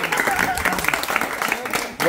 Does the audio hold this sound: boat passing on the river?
no